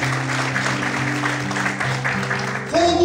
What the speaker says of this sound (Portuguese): Quantos podem aplaudir o Senhor e glorificar a Deus nessa noite? Mais fortes palmas.